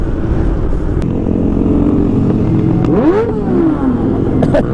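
A motorcycle engine revs on a cold street, a steady rumble that climbs into a sharp rising rev, then drops back and idles on.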